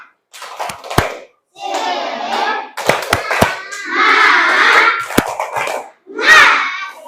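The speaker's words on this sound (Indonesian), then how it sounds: "Oke, tepuk semangat." Schoolchildren in a classroom perform a rhythmic clapping chant, loud and close: sharp sets of synchronized claps alternate with bursts of children's voices chanting and shouting together, separated by brief pauses.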